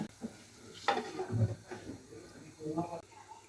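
Taro stolons braising in a pan for a fish dish, with a soft sizzle and a few clinks and scrapes of stirring beneath a person talking.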